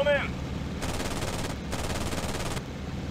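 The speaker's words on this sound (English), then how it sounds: "Send some machine gun rounds." Two bursts of rapid machine gun fire from an aircraft in the IL-2 Sturmovik flight combat game, each lasting under a second, loud and close over a steady engine drone, with a brief voice at the start.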